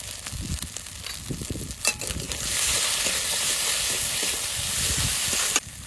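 Spices with green chilli, dried chilli paste and a spoonful of salt fry in a hot pan, a steady loud sizzle and hiss swelling midway with stirring scrapes, close up and alone.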